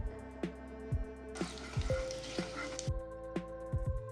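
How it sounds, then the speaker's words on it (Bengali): Bay leaves, whole dried red chillies and cumin seeds tempering in hot oil in a kadai, a soft crackling sizzle that swells for a moment, with a spatula scraping and knocking against the pan in a repeated rhythm. "এবার কড়াইতে 2টি তেজপাতা, 2টি গোটা শুকনো লঙ্কা, হাফ চা চামচ গোটা জিরে ফোড়ন দিয়ে কিছুক্ষণ নাড়াচাড়া করে"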